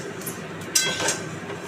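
Fried rice is moved from a kadai into a bowl, with a few light metallic clinks of a utensil against the pan and bowl over a quiet kitchen background.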